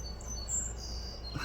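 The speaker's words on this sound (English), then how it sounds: "You can hear the birds chirping in the background," Birds chirp faintly in the background outdoors on a porch, high thin calls drifting over a steady low rumble of ambient noise.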